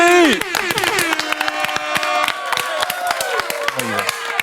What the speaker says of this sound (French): Applaudissements pour Rivet.